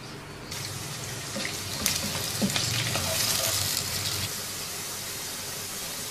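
Sliced medium onion fries in about four tablespoons of hot oil in a cooking pot for mutton pulao, giving a loud, steady sizzle with a few brief clinks and stirring sounds partway through.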